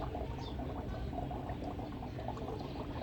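An aquarium air line bubbles steadily in a simple aquaponics tank, aerating the water and running a bottle filter. The result is a constant, dense watery burble with no pauses and no voices.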